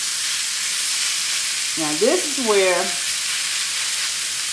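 Sliced meat and onions fry on a hot griddle for Philly cheesesteak, giving a loud, steady sizzle throughout while someone speaks briefly over it midway.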